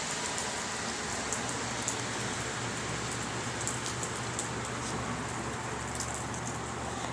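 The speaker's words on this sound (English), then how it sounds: "It's raining super hard." Heavy rain pours down steadily in a dense, unbroken hiss, with sharp individual drops spattering close by over a low background rumble; no voices.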